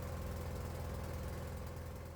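Diesel engine running roughly on a hydrogen-oxygen (HHO) gas experiment, a steady low idle with a pulsing, uneven knock, heard close and alone without voices.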